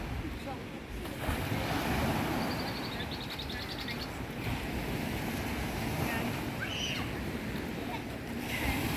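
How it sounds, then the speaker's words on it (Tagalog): Strong waves rolling on Liverpool Lake at Pickering, a continuous rushing surf wash mixed with wind buffeting the microphone, with faint bird chirps in the background. "Ang lakas ng mga alon"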